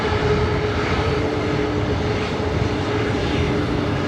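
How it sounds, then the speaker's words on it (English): Heavy jet airliners taking off at LAX, a loud continuous engine roar with a steady low rumble and a faint whining tone, holding even across the whole stretch with no voices. "we're getting some heavy action takeoffs up here"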